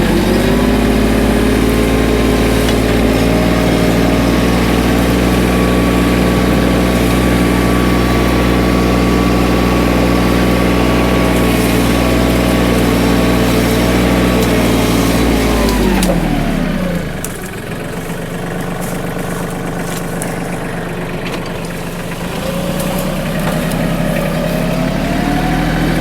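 Tractor engine idling close by, a loud steady rumble with droning harmonics that dips and slows as the revs drop partway through, then settles into a lower idle.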